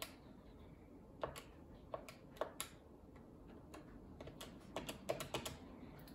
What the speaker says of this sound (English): you're going to enter the password.